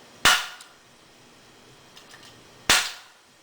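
An inertia bullet puller is struck twice against a hard surface to dislodge a bullet, two sharp, loud cracks about two and a half seconds apart, each followed by a short rattle, with faint taps between and no talk.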